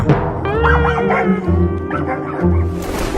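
A dog loose at a sporting event barks and yips excitedly in a rapid string of sharp, loud calls, with some whining pitch in between.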